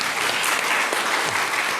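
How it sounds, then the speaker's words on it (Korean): A church congregation applauding, a steady wash of clapping from many hands that fills the whole moment without a break. "박수 한번 할까요?"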